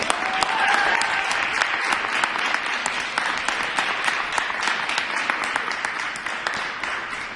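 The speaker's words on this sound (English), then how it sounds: "if we can all give a round of applause for ourselves" A conference audience breaks into steady, dense clapping that stays close and loud without pause, a roomful of hands applauding together at a press conference.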